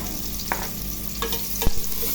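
Onions for spare rib tinola frying in a pot hiss steadily, broken by a few light clinks and one sharper knock of a utensil against the pot.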